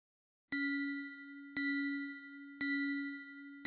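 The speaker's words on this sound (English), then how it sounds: "the bell now sounds on beats 2 and 4" A bright synthesized bell from a Korg Kronos rings four times at an even pace on beats 2 and 4, each strike sustaining with a clear pitched tone.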